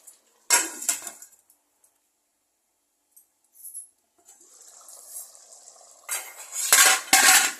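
Metal utensil scraping and clinking in a pot of thickening tomato pickle, a few bursts of stirring separated by quiet pauses, close by.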